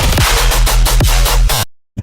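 An electronic music drop from a collaborative track still being produced plays loud and dense, with a pounding kick and bass pattern and heavy, full-band synths, then it cuts off abruptly into silence near the end.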